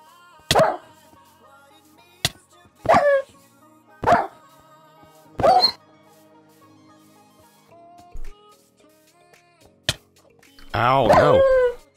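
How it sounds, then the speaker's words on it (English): A dog in a post-apocalyptic raider video game barks and attacks in repeated sharp bursts, loud and close, ending in a longer snarling growl, with a player talking between the barks. "Ooh, we got a dog."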